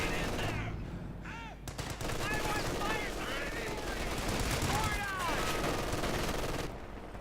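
Dense, continuous gunfire and heavy weapon shots rattle through a Company of Heroes 2 battle, including a German Sturmgeschütz assault gun, with overlapping bursts and booms and whistling effects layered throughout at steady loudness.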